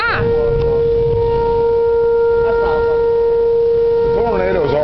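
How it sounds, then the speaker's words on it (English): Outdoor warning sirens sound during a tornado warning in Fort Madison, Iowa, holding a steady, loud wailing tone throughout, with people talking briefly at the start and near the end. "That's the sirens that you're hearing."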